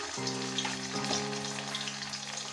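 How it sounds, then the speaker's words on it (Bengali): Ginger paste sizzles in hot oil at the start of a chicken kosha, a loud continuous fry with a brief crackle as it hits the pan, heard alone. "তেলটা গরম হয়ে গেলে এর মধ্যে দেব 2 চামচের মতো আদা বাটা"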